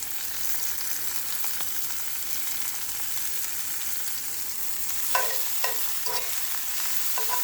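Broccoli and garlic sear in a hot pan with a steady, loud sizzle throughout, joined near the end by a few sharp scraping stirs.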